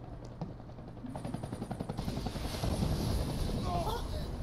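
A helicopter in Final Fantasy VII Remake during the Rufus Shinra boss fight, a rotor whir that swells from moderate to louder and continuous, with game noise and a voice talking around it.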